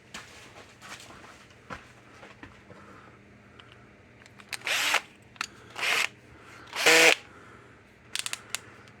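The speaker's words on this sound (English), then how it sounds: "I need to go grab a drill. I need to make a little bitty pilot hole." A power drill whirs in four short bursts, spaced a second or so apart, drilling a small pilot hole, with light handling clatter and quiet room noise between them.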